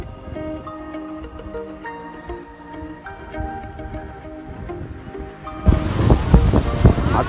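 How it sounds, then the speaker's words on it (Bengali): Sea waves at New Digha beach, with boulders along the shore, churn as a steady broadband wash. The surf grows suddenly louder and rougher near the end, and no one speaks over it. "এখন আমি দাঁড়িয়ে আছি নিউ দীঘার সি বিচে"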